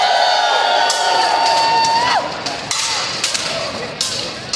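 A crowd cheers loudly at a sword fight event held at FanX 2022 in Salt Lake City, with whoops and shouts fading down, punctuated by sharp cracking hits.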